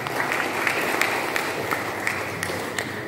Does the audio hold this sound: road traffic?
no